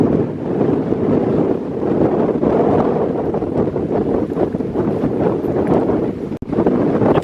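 Strong wind buffets the microphone at Sinclair Bay on Scotland's north coast, a constant loud roar with gusty surges and a brief dip near the end, with no voices.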